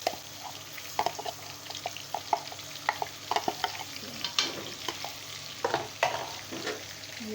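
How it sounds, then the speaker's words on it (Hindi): Green chillies and ginger-garlic paste fry in hot oil in a cooking pot, giving a steady close sizzle broken by frequent light clinks and scrapes of stirring, with no talking. "और इसे हम कुछ मिनट फ्राई करेंगे।"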